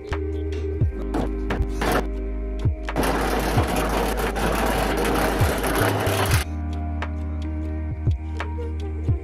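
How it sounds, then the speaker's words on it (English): Milwaukee brushless M12 nibbler cutting sheet metal, a steady motor hum with a dense, loud chattering burst in the middle as the punch bites through, plus scattered clicks before and after. "We're using the Milwaukee brushless M12 nibbler to cut this sheet metal."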